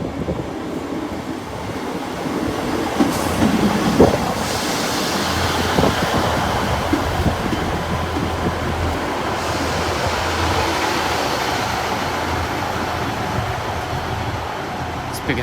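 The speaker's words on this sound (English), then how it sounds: "Here's a terminating northern train service from Hull." A train moves through Doncaster station with a steady rumble and rail noise, wind buffeting the microphone, and faint background voices now and then.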